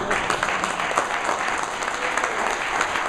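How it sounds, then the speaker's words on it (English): An audience at a chamber keynote address breaks into loud, close applause, a dense, steady clapping that carries through the whole stretch. "I knew I could get applause for that"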